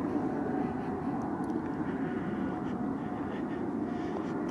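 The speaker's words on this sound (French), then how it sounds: "Donc ce sont des avions cargo." Cargo airplanes pass near Bierset airport at night, a steady, distant engine rumble and roar holding evenly throughout over a wooded setting, with no voices.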